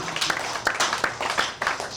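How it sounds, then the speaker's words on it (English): Audience clapping at an office inauguration event for a company head, a dense spread of hand claps running steadily throughout with a few sharper peaks, moderately loud and close, no talk over it. "Can we clap for Professor Faforlife?"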